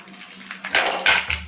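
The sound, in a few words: knife cutting jackfruit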